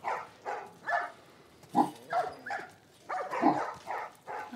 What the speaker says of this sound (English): Xena must hear the other dogs barking.